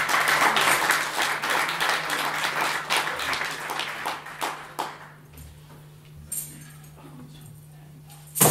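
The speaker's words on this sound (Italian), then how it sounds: "quindi un applauso a lui" Audience applause at a live poetry-and-song evening, the first edition of the event, with steady clapping for about five seconds before it thins into scattered claps and a quiet room.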